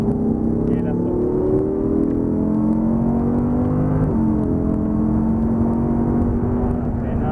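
A Lamborghini Huracán on a race track holds a loud, steady engine drone, then the pitch drops sharply midway as the car brakes hard, before the engine settles at a lower tone.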